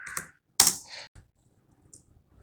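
Keys on a computer keyboard tapped in a terminal, a few distinct quick clicks clustered at the start followed by faint scattered taps, close and quiet with no voices.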